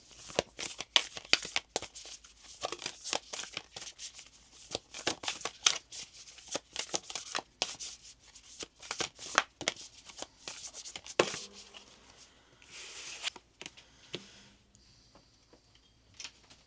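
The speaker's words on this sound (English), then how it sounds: "I want to go ahead and pull from this Sacred Rebels card" Oracle cards from a Sacred Rebels deck are shuffled and pulled by hand, with quiet, close crisp riffling and flicking bursts in an irregular rhythm and a few softer slides of cards being drawn.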